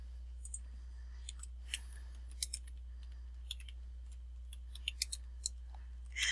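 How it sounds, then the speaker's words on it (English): Scattered light clicks from a computer mouse and keys while adding a comment to a Moodle wiki page, quiet and irregular over a steady low electrical hum. "you can click on add a comment"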